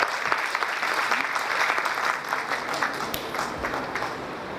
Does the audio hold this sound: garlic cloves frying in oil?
no